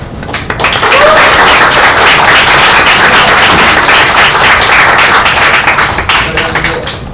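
Vigorous, loud applause at a company welcome ceremony for new employees builds quickly after a soft opening and holds as a thick, crackling roar of many hands clapping throughout.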